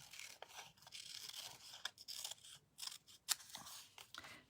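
Scissors snipping around a paper outline for a slimline card, a run of close, crisp cuts and rustles with a few sharper snips, no talking.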